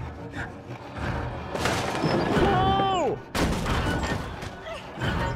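Gunfire in the video game Little Nightmares 2 comes as several sharp, loud booming blasts mixed with thuds and a descending whining tone, amid dense game noise.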